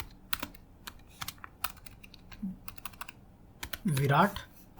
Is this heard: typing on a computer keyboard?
yes